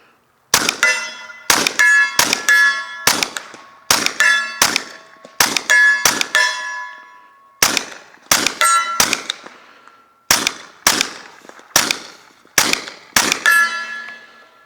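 A Kriss Vector fires at a steel target, each shot followed by a bright ringing clang, in quick strings of three to five hits separated by short pauses, loud and crisp with no speech.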